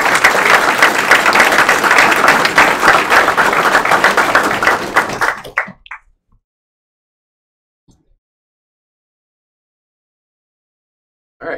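An audience applauds at a career and technical education letter-of-intent signing day at a technical college, a dense burst of clapping for about five seconds that cuts off into near silence, with a brief faint clap near the end.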